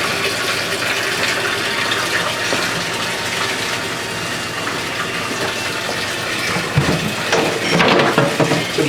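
Hot water gushing from a tap into a mop bucket, a steady, loud, broadband rush that continues unbroken throughout, with a few louder splashy surges toward the end.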